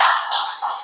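A church congregation applauds in a short, dense burst of clapping that fades within a second.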